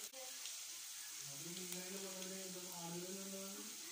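Garlic and ginger fry in hot oil for a sardine pickle, giving a soft, steady sizzle throughout while someone talks over it.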